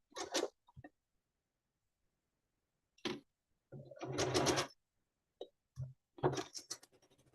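A sewing machine stitches a quilt seam in a few short, quiet runs separated by pauses, each burst of rapid stitching lasting under a second.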